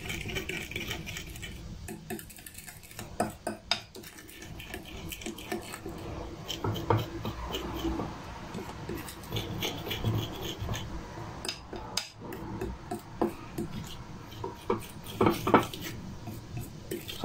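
Spoon stirring carrot and walnut cake batter with chocolate-flavoured yogurt in a bowl, producing faint, irregular scraping and soft clinking strokes, close by and fairly quiet throughout.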